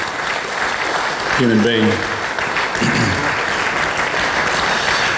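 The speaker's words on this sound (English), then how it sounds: "How about another lovely applause" Audience applause at a memorial evening for a late professor, a sustained even clapping throughout, with a voice speaking briefly over it partway through.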